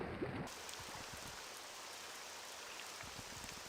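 Steady rain in a Morrowind-style game world, an even, continuous patter and hiss of drops with a faint watery trickle underneath, holding at a soft, constant level throughout.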